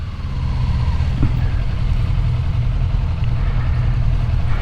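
A 2022 Kawasaki Ninja 400 motorcycle engine runs with a loud, steady, close drone and a low rumble, holding an even pitch with no voices over it.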